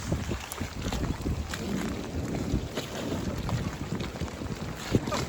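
Strong storm wind at sea rushes and buffets a boat's microphone continuously, with 30-plus-knot gusts, faint sloshing and creaking, and no talking.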